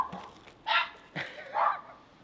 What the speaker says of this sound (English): Don't bark at me, man.